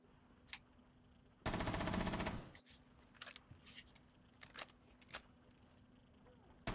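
Automatic gunfire in Rainbow Six Siege, one loud burst of about a second, followed by scattered faint clicks and softer shots amid quiet game ambience.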